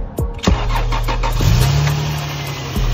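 A car engine starts after its battery is connected: a short cranking stutter, then it catches and settles into a steady close idle with a slight rev.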